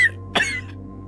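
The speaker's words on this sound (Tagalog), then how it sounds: "Olo, inuubo ka na naman." An elderly man gives a single harsh cough, close and fairly loud, followed by faint breathy rasp, with a steady low hum underneath.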